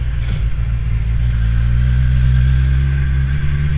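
A Kawasaki Z1000SX motorcycle is ridden at a steady pace, its engine a close, continuous low rumble with wind buffeting, no talk over it.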